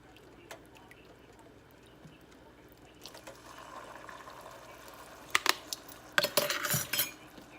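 Metal spoon stirring vanilla into a bread pudding mixture in a bowl, with soft scrapes early, then a few louder clinks and wet sloshing bursts toward the end, fairly close.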